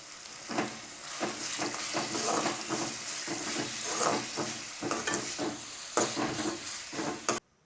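Tomatoes and beans sautéing in a pan for masala rice, giving a steady close sizzle and hiss with repeated scraping stirs at a regular rhythm.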